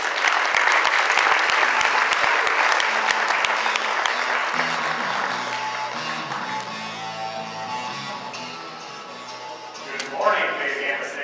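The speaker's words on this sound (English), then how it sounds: "Give them a round of applause as they come to you." Audience applause at a global leadership summit, loud and sustained at first, then thinning out while music plays beneath it.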